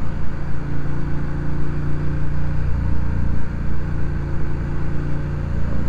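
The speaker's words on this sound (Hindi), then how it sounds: "अबे यार बड़ा ही गंदा ट्रैफिक है, ये कब ख़त्म होगा?" Busy Indian road traffic surrounds a moving motorbike: a dense, steady roar of engines and wind rumble, with nearby vehicles rising and falling in the mix and no clear voices.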